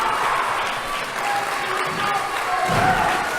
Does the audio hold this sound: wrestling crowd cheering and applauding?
yes